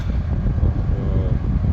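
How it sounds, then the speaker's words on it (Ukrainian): A cooling fan in a Chevrolet Lacetti runs with a steady, broad whooshing hum throughout, close and continuous, with no speech over it. "Бачите, що не співає вентилятор"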